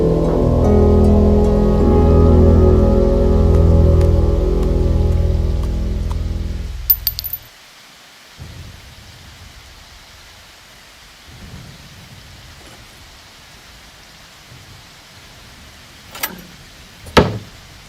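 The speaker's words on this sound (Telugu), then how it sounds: "చి బొక్కల వర్షం, చెత్త వర్షం," A heavy downpour roars loudly for about seven seconds before cutting off, followed by quieter dripping and two sharp cracks of thunder near the end.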